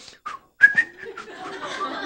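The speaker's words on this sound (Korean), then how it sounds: "그때 제가 고안해낸 방법이 휘파람이었습니다" A person whistles a few short, clear notes, then a longer wavering tune, close by and fairly loud, with brief gaps between the early notes.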